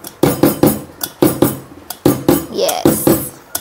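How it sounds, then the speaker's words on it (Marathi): A container of homemade anniversary cake batter is tapped against a hard surface in a home kitchen, giving about nine sharp, close knocks in an uneven rhythm, with a brief bright clink near the end. "हा आता हे थोडंसं टॅप टॅप करून घ्यायचं आहे म्हणजे त्याच्यामध्ये बबल्स नाही राहणार."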